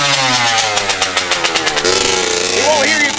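A carbureted Kawasaki KLX dirt bike engine cranks with rapid rhythmic pulses, then catches and settles into a loud, close idle with a few sharp revs at the end.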